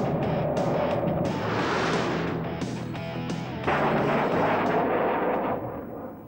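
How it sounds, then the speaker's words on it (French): An F/A-18 Hornet fires its M61 20 mm Gatling cannon in loud, continuous roaring bursts that run for about six seconds, with a brief dip and then a renewed blast before the sound trails off. "ouvrir le feu avec son canon Gatling"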